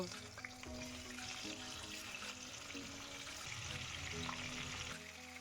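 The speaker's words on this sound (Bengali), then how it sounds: "তেল গরম হওয়ার পর মাছগুলোকে ভাজতে দিয়ে দেব" A steady, gentle sizzle of rohu fish frying in hot mustard oil continues throughout, soft and even with faint low hum underneath.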